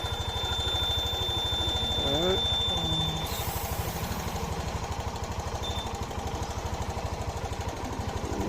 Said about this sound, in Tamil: வண்டி ஸ்டார்ட் பண்ணி ஓடாமட்டனால வண்டி கொடலாம் சவுண்டு வருது.